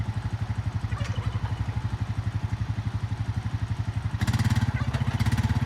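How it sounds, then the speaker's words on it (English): Four-wheeler engine idling and reversing on a farm, a close, steady rhythmic chug that grows slightly louder and rougher near the end. "I don't like backing that one, the four-wheeler."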